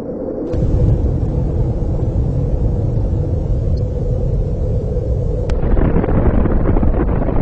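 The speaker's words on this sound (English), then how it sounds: "I should throw out a bomb to destroy karts." A bomb explodes in a kart racing video game, producing a loud, sustained rumbling roar with a crackling burst partway through, set over the game's constant engine noise.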